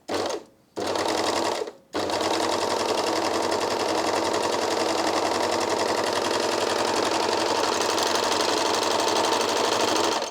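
A Janome 2000D serger/overlocker stitches fabric loudly and up close, making a rapid, steady mechanical whirr. It starts and stops in two short bursts, then runs continuously without a break.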